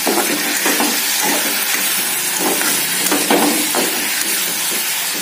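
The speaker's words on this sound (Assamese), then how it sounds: "ভাত কেৰেলা ভাজি আছো" Bitter gourd frying in a home kitchen pan, a steady broadband sizzle with soft stirring scrapes and small crackles throughout, close and fairly loud, with no talk.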